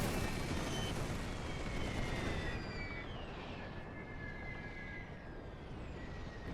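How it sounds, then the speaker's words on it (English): Artillery fire in the game The Great War 6.0: a dense, rumbling barrage of booms and bursts blending into a continuous roar, with whistling shells overhead, loud and sustained throughout. "we're receiving quite a bit of artillery fire from the enemy"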